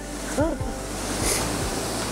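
Large ocean waves crashing onto rocky shore near a forest coastline, a loud continuous roar of surf filling the whole short moment, with a voice briefly speaking over it.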